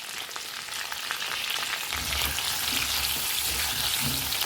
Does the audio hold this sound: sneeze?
no